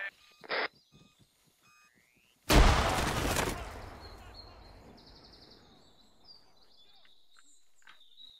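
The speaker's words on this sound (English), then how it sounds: "That was an explosion." A grenade explodes in a jungle ruins military simulation game, a loud sudden blast with a long rumbling decay, after a couple of short sharp gunshot-like cracks and faint ambient calls.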